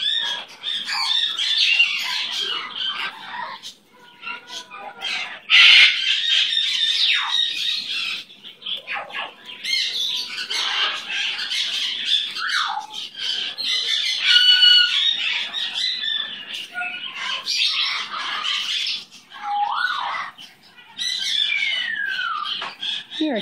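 Liberty, a pet bird, keeps up a busy stream of clucks, squawks and chirpy calls, close and fairly loud, while a person talks at intervals.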